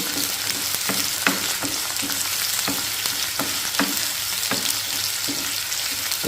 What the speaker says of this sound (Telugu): చూసారండి green chilli onions curry leaves కూడా వేసానండి మిక్స్ చేసేద్దాం